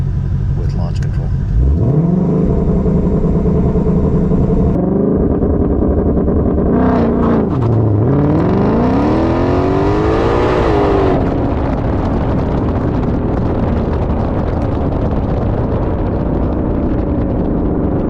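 Shelby GT500 launching hard under launch control: a steady revving engine climbs, drops briefly, then surges loud and close as the car accelerates away, with a roaring exhaust throughout.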